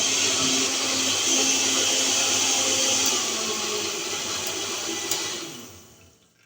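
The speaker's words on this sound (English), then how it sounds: "I'm gonna blend up the coconut now" An electric blender whirs steadily and loudly as it blends coconut for a Jamaican stew with coconut milk, holding an even motor roar for about five seconds before winding down and fading out.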